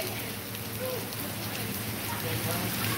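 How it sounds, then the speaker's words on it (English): Heavy rain pours down steadily on a downtown Charleston street at night, a dense, loud hiss of drops drumming on surfaces with no break. "raining pretty hard"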